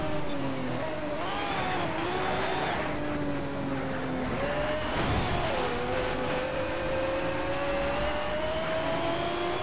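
A race car laps a track in Need for Speed Shift, its engine whining continuously up close with rising and falling revs through gear shifts, a brief swell of passing cars in the middle.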